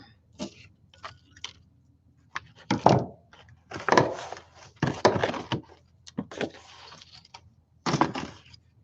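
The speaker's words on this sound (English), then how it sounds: "Oops, somebody's knocking at my door." Someone knocks on a door in irregular clusters of sharp wooden raps, several separate bursts spread over a few seconds, fairly close and distinct against a quiet room.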